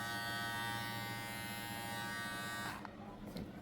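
BRD S17 electric hair trimmer running with a steady, close, high-pitched motor buzz that cuts off near the end, followed by faint handling noise.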